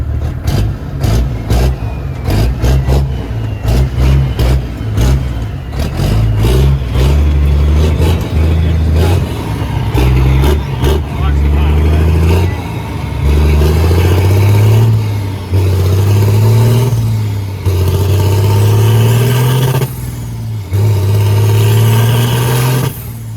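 A burnout truck engine revs hard and loud, rising and falling in repeated surges over a steady rumbling idle, close by with no talk over it.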